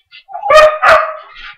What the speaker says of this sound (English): the dogs are going crazy and making noise.